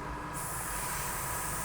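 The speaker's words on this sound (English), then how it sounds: "it's hard to tell when you're spraying on clear" An airbrush sprays clear Vallejo paint onto the windows of a Tamiya Comical Grasshopper model kit, a steady close hiss that opens with a sharp onset and holds.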